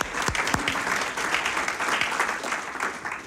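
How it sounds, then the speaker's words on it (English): Audience applause at a public lecture, a crowd clapping steadily and evenly for a few seconds with no speech over it. "let's give him a round of applause"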